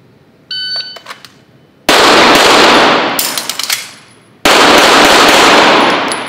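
Pistol shots during a shot timer drill: a short electronic timer beep, then two very loud, close gunshots a few seconds apart, each ringing out before fading, with a faint click between them.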